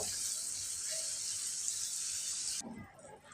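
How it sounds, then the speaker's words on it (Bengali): Water pours steadily into a pan of tangra fish curry, a dense rushing splash that runs unbroken for a few seconds and then cuts off, leaving faint bubbling and low clatter. "আমি পানিটা দিয়ে দিলাম"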